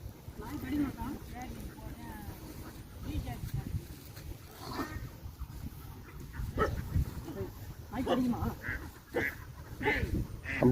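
A dog barks a few times at a wet spot outdoors, the barks short and mid-distance, mixed in with people talking and scattered noise.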